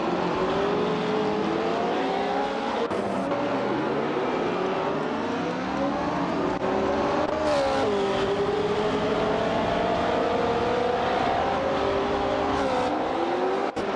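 Several racing cars in a video game speed along with continuous loud engine whine that rises and falls as they shift gears and pass one another.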